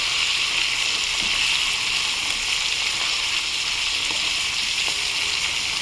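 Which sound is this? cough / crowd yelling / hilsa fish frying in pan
hilsa fish frying in pan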